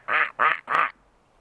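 Mallard duck outdoors on Mount Rainier, three loud, close, evenly spaced nasal quacks followed by quiet.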